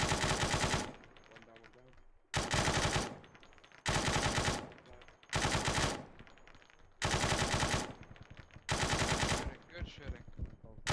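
Bursts of heavy automatic gunfire from a Krokodyl video game mission with the People's Army of Livonia, coming in six loud sustained volleys separated by brief pauses, with faint voices in the gaps.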